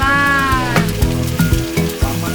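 Fish fries in oil for a traditional ritual meal at a village feast. A steady sizzle sits under a rhythmic, tonal musical backdrop with regular struck accents.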